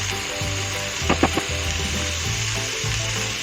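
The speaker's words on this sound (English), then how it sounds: "Now I'm adding marinated chicken pieces." Marinated chicken pieces sizzle and fry in a hot pan, a steady close crackling hiss with a few brief scraping stirs in the middle.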